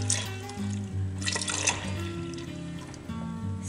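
Milk is poured into an Instant Pot over oats and water for oatmeal, a close, continuous glugging fill with shifting tones.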